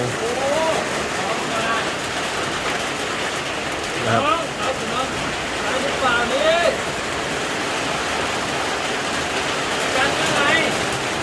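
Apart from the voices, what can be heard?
rain falling at night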